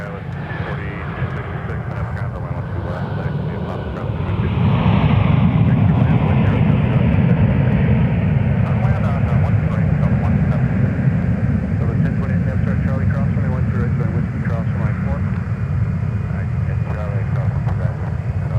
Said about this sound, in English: There's our 757 flight off to Atlanta this evening.